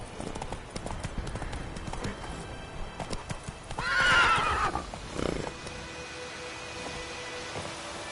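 Roach, the horse in The Witcher 3, with hoof clip-clops trotting, then a loud drawn-out neigh in the middle, followed by a snort and softer hoofbeats over a faint rainy ambience.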